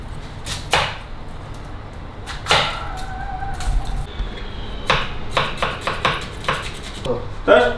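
A carbon-steel knife chops an onion on a board, with sharp, irregular thuds that come in short bursts and quicken toward the end, close up.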